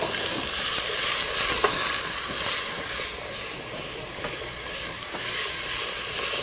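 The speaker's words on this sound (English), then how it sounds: "Now let's add our chickpeas." Chickpeas with turmeric, salt and spices fry in a hot pan on high flame, a dense continuous sizzle and hiss with occasional stirring scrapes, close and fairly loud.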